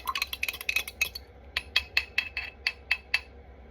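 A fork stirs a flax mixture in a bowl, making a quick run of light, close metallic clinks against the sides, then a steadier series of evenly spaced taps with short pauses between them.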